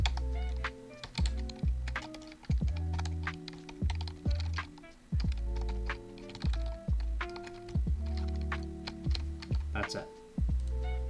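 Code is typed on a computer keyboard in quick bursts of close, crisp key clicks and thunks with short pauses between runs, over a low steady hum.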